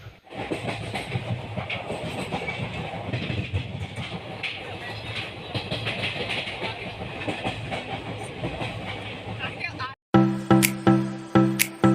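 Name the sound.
moving passenger train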